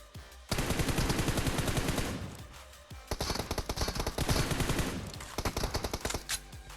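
Automatic gunfire in PUBG Mobile: two long, loud, rapid bursts of shots separated by a brief pause, close and dominant, with a few scattered pops at the end and no talking.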